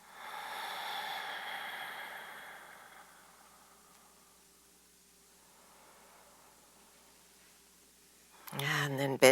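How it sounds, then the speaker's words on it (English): Slow, long breathy exhales during a yoga practice, soft and airy near the microphone, fading into quiet before a brief louder rustle at the end. "Three more long exhales."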